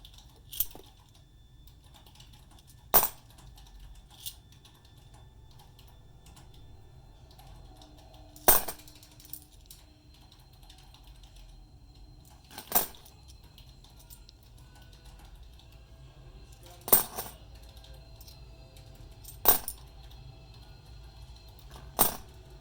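Sharp metallic clinks of 50 cent coins dropping one at a time during a coin roll hunt, about eight separate close clicks spread irregularly over a quiet background hum.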